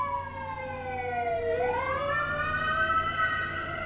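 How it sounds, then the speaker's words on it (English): Emergency vehicle sirens wail continuously, the pitch sliding down then sweeping back up, moderately distant over low street noise. "The ambulances and the fire trucks."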